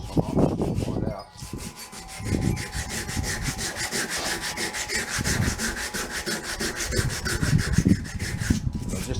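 Sandpaper of 240 grit rubbing wet and dry across an abalone shell to strip calcium deposits, a steady scratchy back-and-forth rasp that carries on almost without pause, close and fairly loud.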